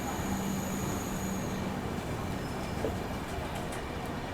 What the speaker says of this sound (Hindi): गाज़ियाबाद में किसी ट्रेन को शंट किया जा रहा है।